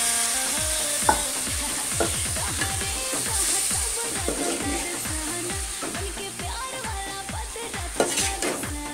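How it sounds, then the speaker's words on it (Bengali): Vegetables sizzle and fry in a pan for a home-cooked meal, with steady loud crackling under repeated scraping and stirring strokes of a utensil against the pan and occasional clinks of cookware, no voices. "এই যে দেখতেই পাচ্ছ সবজি বসাচ্ছি"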